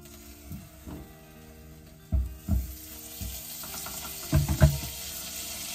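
Butter for a béchamel sauce sizzles faintly in a pan, with scattered clinks and scrapes of utensils against the pan and a few soft bumps over low background noise.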